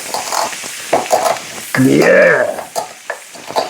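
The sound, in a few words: peppercorns being smashed up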